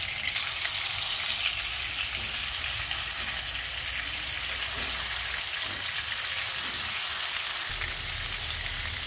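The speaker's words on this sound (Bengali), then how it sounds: "আমি এখন মাছগুলো এক এক করে দিয়ে দিব।" Fish frying one piece after another in hot mustard oil in a non-stick pan, a steady loud sizzle and crackle running throughout, with no voices.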